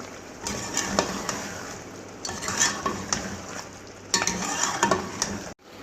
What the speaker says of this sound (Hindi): इसको दही का पानी खुश्क होने तक मज़ीद भून लें।